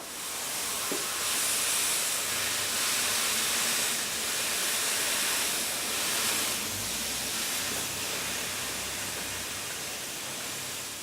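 Steam hissing from a hot bending iron through damp cloth while rosewood dreadnought guitar sides are bent; a steady, broad hiss that swells and eases slightly throughout, with no talking.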